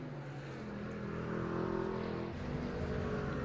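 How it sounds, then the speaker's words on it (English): Racing trucks from a NORA truck race at Atlanta roll down pit road, a continuous engine drone that swells slightly in the middle, no speech. "Start seeing a lot more trucks coming down pit road now."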